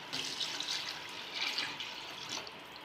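Water pouring steadily into a cooking pot as rice is prepared for mutton biryani, a continuous close splashing rush with no voices.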